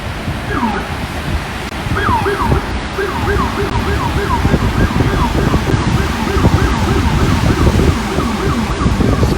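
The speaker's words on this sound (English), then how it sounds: "Speaking of police sirens," A police siren wails in repeated rising and falling sweeps over a loud, rumbling street background in Paterson, New Jersey, fairly close and continuous.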